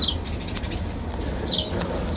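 Pigeons kept in a coop at feeding time coo softly, with two short calls about a second and a half apart over a quiet, low background hum.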